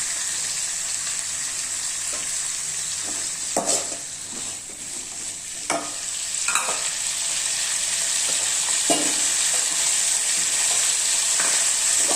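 Ridge gourd peel sautés in a wok under a steady, bright sizzle, broken by a few spaced spatula scrapes against the pan, close up with no voices.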